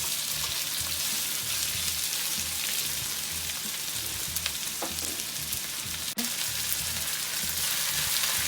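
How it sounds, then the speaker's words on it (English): Pork and onions stir-frying in a pan make a continuous loud sizzle and crackle, with a few soft stirring scrapes and clinks close by, and no one talking. "And then in is going the pork right now, with the onions."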